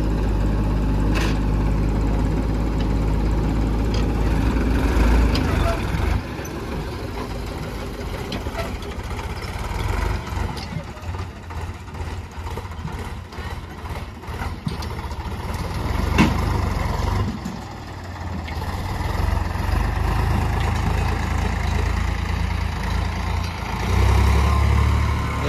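A Sonalika DI 50RX four-wheel tractor engine, just started, idles with a steady low rumble that runs nearly unbroken for about twenty-five seconds, with a brief dip partway through and no talking.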